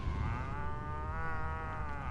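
A cow in the Destroy All Humans video game lets out one long, loud, drawn-out moo that fills the whole moment, with no talking.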